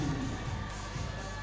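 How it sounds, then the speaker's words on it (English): A crowd cheers and roars at a youth bouldering competition final, a steady, dense wash of noise from many voices that holds at an even level throughout, with no clear single voice standing out. "And the crowd is going wild."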